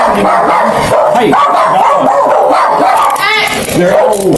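Several dogs bark and yip excitedly near a roadside police stop, sharp repeated barks and whines overlapping with people talking over them.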